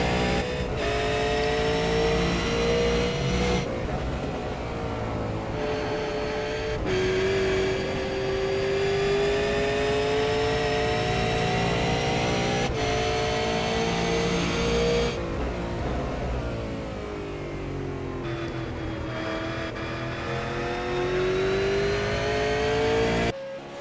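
A V8 Supercar race car engine holds a steady part-throttle drone at under half throttle, its pitch rising and falling gently over a long stretch with brief lifts, loud and close throughout.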